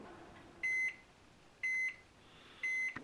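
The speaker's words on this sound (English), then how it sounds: "So here we are putting the water in the microwave. And we're going to set it for 2 minutes" A microwave beeps three times, evenly spaced about a second apart, each tone steady and clear over a faint hum.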